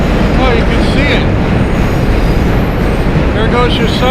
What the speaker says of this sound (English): There goes your subway train.